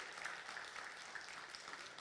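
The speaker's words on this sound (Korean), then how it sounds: "우리 수고한 분들 위해 우리 한 박수 한번 해주시기 바랍니다" A church congregation at a Friday evening service applauds together, a steady wash of many hands clapping at moderate distance that continues evenly for the whole stretch, with no voices over it.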